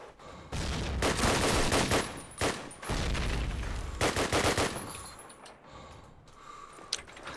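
Sustained bursts of automatic gunfire ring out in Call of Duty United Offensive, loud and close, in several rapid volleys broken by short pauses before trailing off into quieter scattered noise.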